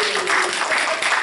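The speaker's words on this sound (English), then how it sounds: "A round of applause for Brian." A brief burst of audience applause, a dense patter of many hands clapping at once, fairly loud and close.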